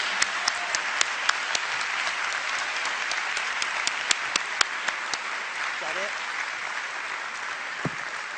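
An audience claps steadily for several seconds, a dense patter of hands with a few sharper claps standing out.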